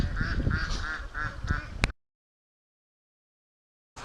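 Ducks at a lake give a quick run of about five rhythmic quacks, fairly close, then break off into sudden silence before a faint sound returns at the end.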